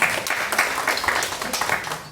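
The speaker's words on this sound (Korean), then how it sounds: "박수 한번 하겠습니다." A church congregation claps together during a Sunday service, a dense, steady burst of hand clapping with some talk mixed in.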